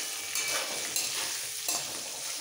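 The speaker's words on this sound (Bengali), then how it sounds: "এবার আলুটা খুব লাল করে একটু ভেজে নিতে হবে।" Potatoes with salt and turmeric fry in a pan, a close crackling sizzle broken by about three scraping strokes of a spatula stirring them.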